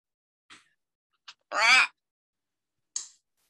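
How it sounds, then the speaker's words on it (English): A pet parrot calls out indoors: a few short clipped squawks and one louder, longer raspy cry in the middle, with silence between the calls. "the parrot noises really add to the show"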